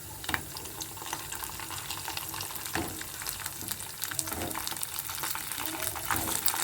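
Green chillies hit hot oil in a pan while making tamarind pulihora, giving a steady, close crackling sizzle with scattered pops and a faint voice now and then underneath.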